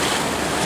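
Sea waves in the Adriatic wash loudly around a swimmer in a steady, close roar with wind buffeting the microphone.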